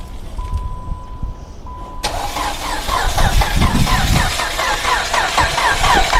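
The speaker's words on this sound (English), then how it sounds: "Now the engine is rolling fine." The engine of a Dodge Avenger cranks over on the starter with a steady rhythmic churning, loud and close, following a brief electronic chime and click.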